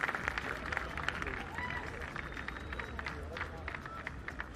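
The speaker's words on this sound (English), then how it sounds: "Once again, big round of applause. Thank you for the great performance by Dance B." Audience applause and cheering at the Baseball5 World Cup opening ceremony following a dance performance, a steady crowd roar of clapping that holds for several seconds.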